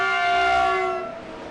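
A train's air horn blasts during the Lichtenburg 250 off-road race, a loud sustained multi-tone blare that holds steady for about a second before fading away.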